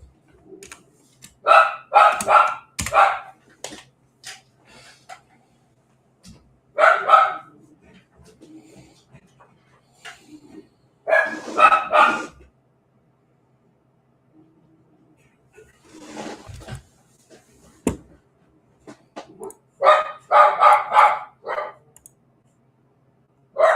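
A dog barks in several separate bursts of sharp, repeated barks spread over about twenty seconds, fairly close and loud, with quiet gaps and faint clicking between the bursts.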